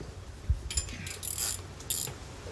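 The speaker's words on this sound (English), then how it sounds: "I need a breaker bar to get this started." A breaker bar works on the rear axle bolts of a Jeep Wrangler JK, giving a few faint mechanical clicks and metallic creaks in a quiet garage.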